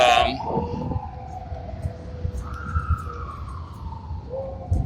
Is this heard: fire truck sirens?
yes